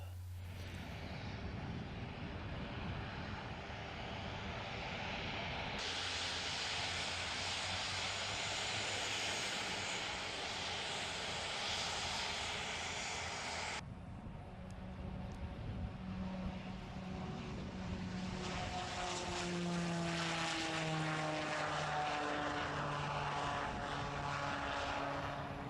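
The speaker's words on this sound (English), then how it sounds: "a twin-engine Piper Cheyenne, and later a high-performance Piaggio P180 Avanti for this specialized flight test" A twin-engine propeller aircraft such as a Piper Cheyenne or Piaggio P180 Avanti in flight, a steady droning engine and propeller hum with shifting pitch, sustained and fairly close.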